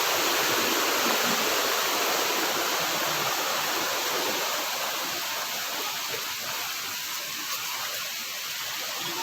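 A waterfall crossed along a forest trail roars in a steady, dense broadband rush close by, continuous and unbroken for the whole stretch with no voices.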